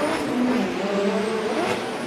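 A drift car sliding through a D1NZ battle at Baypark Stadium, a loud, steady engine roar with tire noise that holds throughout without voices.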